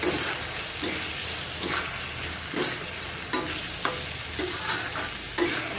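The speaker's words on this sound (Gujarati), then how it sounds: "મીઠું આપણે સ્વાદ પ્રમાણે નાખી દઈશું, અને ઝીણું ધાણા પાવડર, અને આને મિક્સ કરી લઈશું" Salt and coriander powder being stirred into a sizzling pan of peanut curry, the spoon scraping in regular strokes roughly every second over a constant close frying hiss.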